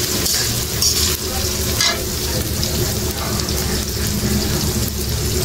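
Boal fish curry with plenty of chilli cooking in a pan, a loud steady frying hiss and bubbling that continues throughout with faint clinks, no speech.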